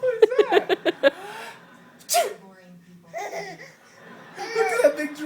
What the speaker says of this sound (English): The funny Daddy sneezing on you.